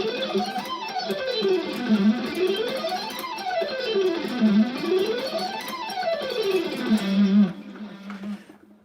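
Fast guitar scales are played with economy picking and run up and down in long sweeping patterns, loud and continuous until they stop on a held note near the end.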